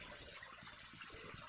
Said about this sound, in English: I'm filling up a little tub right now with water